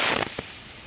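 Fireworks go off outdoors as a loud crackling burst followed by a couple of sharp pops, fading into a hissing wash of noise.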